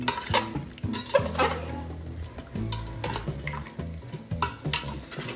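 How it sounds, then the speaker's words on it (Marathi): Mutton pieces are stirred into gravy in a pot, village style, with steady scraping and clanking of the utensil against the metal and wet mixing sounds, close up and continuous. "ताई पुन्हा परत त्यांना मिक्स करून घ्यायचं"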